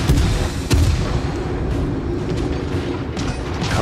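Naval cannon fire in World of Warships Legends, a deep heavy boom near the start and a sharp blast about three quarters of a second in, over continuous rumbling engine and battle noise.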